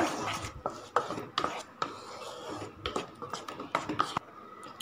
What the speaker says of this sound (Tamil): அதே பேனில் நம்ம எடுத்து வச்சுருக்கிற ஒரு கப் மேங்கோ பல்ப்பு சேர்த்துக்கலாம் நல்லா கலந்து விட்டுக்கோங்க